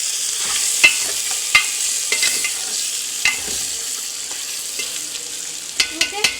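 Mutton for biryani frying in a pot, a loud continuous hiss-sizzle broken by sharp clinks and scrapes as it is stirred, with a quick cluster of knocks near the end.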